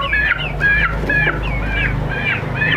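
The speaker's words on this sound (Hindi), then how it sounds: "ये जनाब जो है ना मुर्गा है, और ये नीचे जो फिर रही है ये इसके साथ वाली मुर्गी है" A rooster and hen give about six loud, harsh, honking squawks in quick succession, close by, over a steady low background hum.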